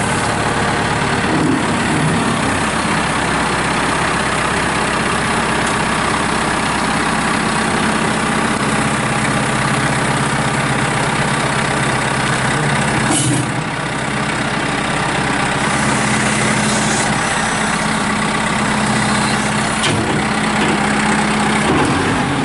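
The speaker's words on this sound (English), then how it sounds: "I'm gonna fire this tractor up" A 2017 Kubota M6060 cab utility tractor with a 4x4 loader starts up and then idles with a steady, loud, low diesel drone. One brief change in engine note comes midway, and nobody speaks.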